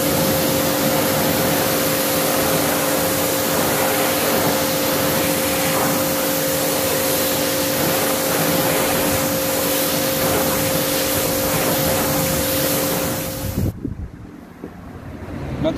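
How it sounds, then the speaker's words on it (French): A car wheel rim getting a final water rinse, a loud continuous spray hiss that runs steadily before cutting off abruptly near the end. "ensuite un bon rinçage final"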